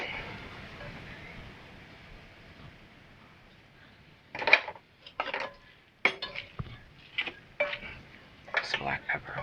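A utensil scrapes and clatters in a pan of ground chicken stroganoff, starting after a quiet stretch and going on in irregular bursts while someone talks.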